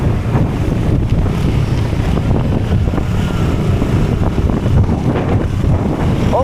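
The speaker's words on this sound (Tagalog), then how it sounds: "lakas ang hangin" Strong wind gusts buffet the microphone outdoors near water, a loud continuous low roar with rushing, surf-like texture and no voices.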